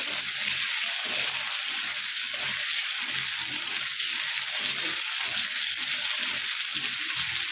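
Potato slices fry lightly in a pan, giving a soft, continuous sizzle with a faint watery crackle, steady and close, with no voices.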